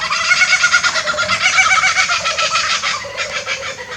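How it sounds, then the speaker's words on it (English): Kookaburras call outdoors in the morning, a dense, rhythmic, cackling chorus of overlapping raucous laughs that stays loud and steady throughout, with no talk. "that's kookaburras having a bit of a song"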